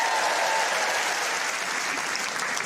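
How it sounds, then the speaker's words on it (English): Full, sustained applause from a stand-up comedy audience, a loud, even wash of clapping across the whole stretch with no talk over it. "Round of applause"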